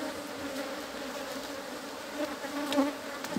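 Honey bees buzz around hive frames holding old foundation sheets, a dense close drone with individual bees rising and passing nearby, steady and moderately loud, with no speech.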